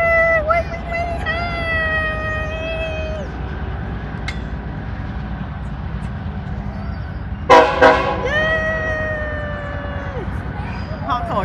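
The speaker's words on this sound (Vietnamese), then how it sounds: "Họ thổi còi mọi người ơi, họ thổi còi mấy nhà mình đấy." A passing train sounds its horn in long, loud blasts, pausing and then blowing again, over a low rumble of the moving rail cars, with a voice heard faintly alongside.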